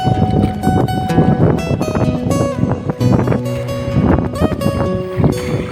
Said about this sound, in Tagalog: Lakas ng amihan.